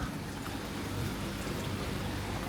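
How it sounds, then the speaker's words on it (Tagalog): Steady rain falls during a storm in New Zealand as a soft, constant hiss with no distinct drops standing out, quiet and unbroken, and no one speaks. "So ulan po talaga."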